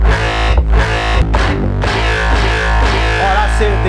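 A Sega Mega Drive turned into an FM synthesizer with a GEN MDM plays a loud, distorted buzzing tone that re-triggers in a choppy rhythm as its attack is adjusted, ending with a warbling pitch bend.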